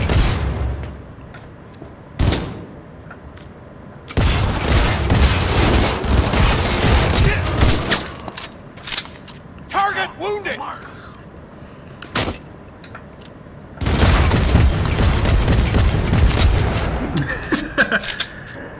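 Bursts of gunfire from the video game Cyberpunk 2077 during a heist, loud sustained volleys with booming impacts, separated by short quieter gaps with game effects and chatter.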